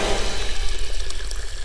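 Water gushes into a small bucket for a puja, a loud, close and continuous rushing pour with no break.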